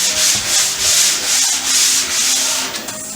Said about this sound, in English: When I'm sanding, I like using this longer sanding board.